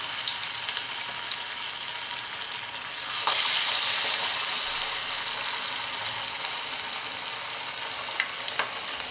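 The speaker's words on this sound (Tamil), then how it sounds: "எண்ணெயில் அப்படி போட்டுடுங்க." Shaped banana flower vadai drops into hot oil and sets off a sudden loud sizzle that stays close and crackling, then settles into a steady bubbling fry.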